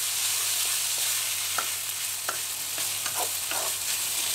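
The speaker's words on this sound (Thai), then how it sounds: "ใส่ข้าวลงไปเลย ผัดให้เข้ากันเลยนะคะ" Rice stir-fried with chicken and Thai roasted chili paste in a pan, a continuous close sizzle with scraping stirring strokes of the spatula, and no voices.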